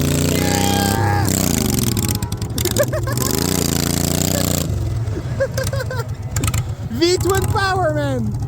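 A V-twin lawnmower engine, a vertical-shaft unit mounted horizontally, runs loud and close with a rough, throbbing note that shifts in pitch, while excited voices shout over it.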